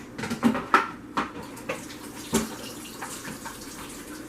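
Water running at a kitchen sink as a lasagna meat mixture drains in a colander, soft splashing and a few metallic clinks, fairly quiet, no talking.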